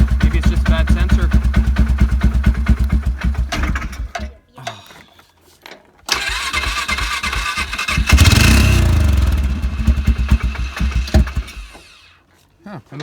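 Polaris Sportsman 500 ATV engine cranking and starting with a mechanical whir and clatter, loud and close, with a short quiet gap midway before the starter grinds again and the engine catches, then it fades near the end.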